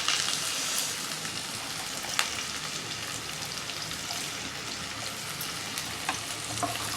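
Garlic, ginger and onion sizzle in hot oil, a dense and steady crackling hiss with occasional sharper pops, close and continuous with no talking.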